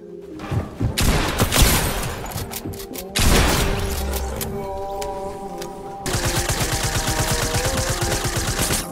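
Rapid bursts of automatic gunfire and single shots in a Fortnite match, loud and close, with sharp overlapping reports that give way to a dense, continuous rattle of fire near the end.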